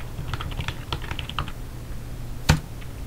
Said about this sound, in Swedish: Så allt du behöver göra är skriva